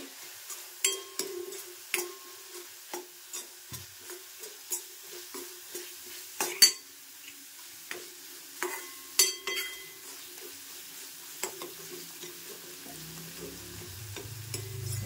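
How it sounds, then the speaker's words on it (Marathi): Soft sizzling of coriander leaves in hot tempering oil with repeated light stirring clicks at an uneven rhythm, fairly quiet and close, no talking. "थोडीशी कोथिंबीर कापून घेतली आहे, त्यातली मी थोडी टाकते फोडणीमध्येच"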